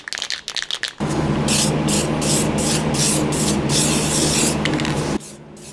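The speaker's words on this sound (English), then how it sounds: "We're just gonna spray. We're gonna throw some paint on there, call it good." A near, steady hiss of a cold aerosol spray paint can coating a tractor snow blade brown for several seconds, preceded and followed by short scraping and rattling sounds.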